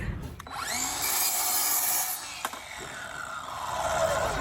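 A power saw cuts a 30-degree angle through scrap wood, its loud continuous whine running steadily for several seconds with a brief catch partway through.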